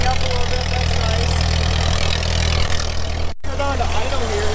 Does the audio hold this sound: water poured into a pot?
no